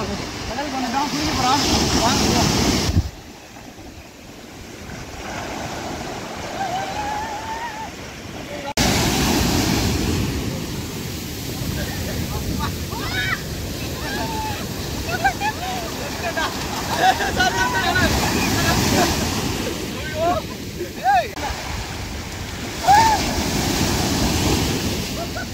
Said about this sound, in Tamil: இங்கே அலையெல்லாம் பார்த்தீங்கன்னா ரொம்பவே பயங்கரமாக இருந்துச்சுங்க.